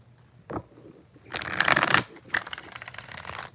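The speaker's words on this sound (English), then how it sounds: "4 shuffles for Isha" Tarot cards are shuffled in a close, dry riffle with a short flick and then two longer papery bursts, heard alone without talk.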